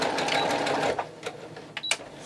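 A sewing machine runs in a fast close rattling burst while tacking a bag flap in place, then stops, followed by a few short clicks and handling knocks.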